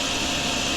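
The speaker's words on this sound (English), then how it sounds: "at least the vacuum cleaner sound is back" A vacuum cleaner in the DrainSim plumbing video game gives a steady, loud, even whoosh-like whir that is heard alone for under a second, with no break in the sound.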